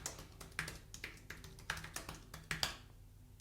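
Fingers tap out a password on a computer keyboard, a quick, uneven run of close, crisp key clicks with short pauses between bursts and a final louder keystroke.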